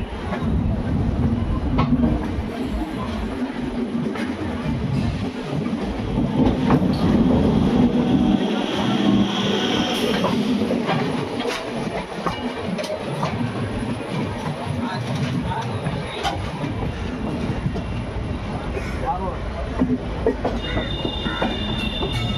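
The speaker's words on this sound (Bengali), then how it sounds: "একটা লোকাল ট্রেন আসছে।" A local train arrives at Howrah station in a steady, continuous rumble of rail noise with occasional clatter and squeal, amid busy platform ambience and some background voices.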